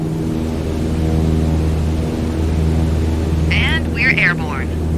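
An airplane lifting off a runway in Microsoft Flight Simulator, a steady, loud engine drone holding throughout, with a brief higher whine or chirp rising near the end.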